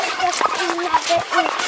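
Turkeys being carried by hand to a new house on a village farmyard call out close by, with a string of short gobbling and chirping cries repeating through the moment.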